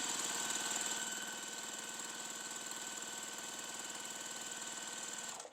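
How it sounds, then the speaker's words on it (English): Sewing machine stitching quilt block pieces, a steady, even mechanical whir with fast regular needle pulses running throughout at moderate level, no talking. "we're going to take our P and S and we're going to sew together"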